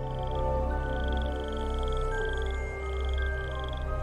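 A half-ogre, half-frog companion in the video game Roguebook croaks in low, droning, rhythmic pulses. Steady tonal music with repeating high notes plays alongside.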